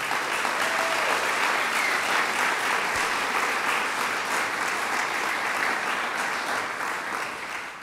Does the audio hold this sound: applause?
yes